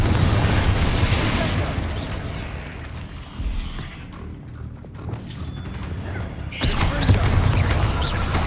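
Confringo blasting spell explosions in Hogwarts Legacy on PS5, loud booming bursts and rumbling impacts layered with game effects, heaviest at the start and again near the end.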